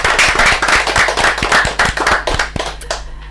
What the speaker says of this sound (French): j'aimerais qu'on applaudisse, mesdames, messieurs, pour Miss Ngacho